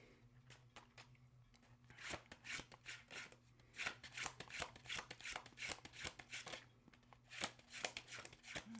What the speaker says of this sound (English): So I'll just keep to the riffle and the overhand for now.